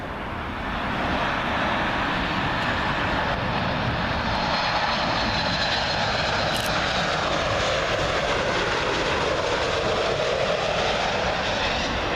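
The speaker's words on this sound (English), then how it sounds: "Lot 737, coming in from Warsaw" A LOT Polish Airlines Boeing 737 from Warsaw on final approach to Heathrow 27L, rising quickly into a loud sustained jet roar with a gliding engine whine as it passes close overhead, no speech.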